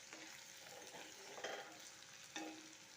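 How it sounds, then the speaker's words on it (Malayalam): Soybean curry with curry leaves sizzling in a pan and stirred with a spoon, a soft continuous fry broken by a few scraping strokes, faint and close. "ഇളക്കി കൊടുക്കാം"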